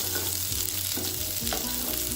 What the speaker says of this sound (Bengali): ক্যাপসিকাম আর পেঁয়াজটাকে অল্প করে হালকাভাবে ভেজে নিয়েছি